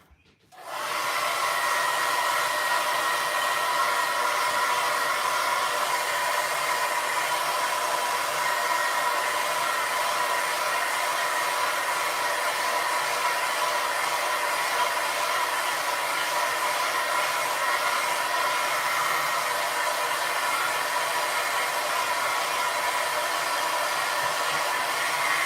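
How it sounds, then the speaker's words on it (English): A hair dryer switches on to dry a watercolor painting, blowing continuously with a steady, loud whooshing hum for the whole stretch, with no talking. "I'm gonna use the hairdryer."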